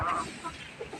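Young Chinese duck ducklings call in a few short, soft peeps and squeaky chirps scattered across a brief moment, close by over quiet background noise.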